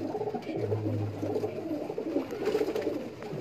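Several pigeons cooing in a loft of racing and breeder birds, a golden pigeon among them, with steady overlapping low coos, fairly close and continuous.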